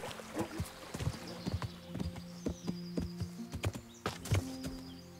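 Horse hooves clip-clop in the medieval video game Kingdom Come: Deliverance, irregular close hoofbeats with clattering tack over low background sound.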